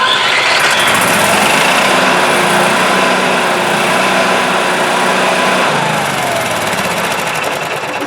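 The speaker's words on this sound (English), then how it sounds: "That's priming the generator to start." A small RV generator engine on a 2021 Jayco Redhawk 22A runs loudly and continuously nearby, a buzzing, chugging roar that holds steady for the whole stretch.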